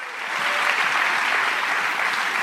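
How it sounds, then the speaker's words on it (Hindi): An audience at a business meeting gives loud, continuous applause for leaders seated before them, the clapping rising quickly and holding steady to the end. "जोरदार ताली फॉर ऑल दिस लीडर्स।"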